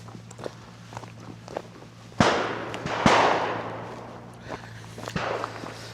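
A .410 Beretta 686 Silver Pigeon over-and-under shotgun fires its bottom barrel during outdoor pattern testing at Eaton Hall. Sharp, fairly loud reports come about a second apart, each trailing off into open air.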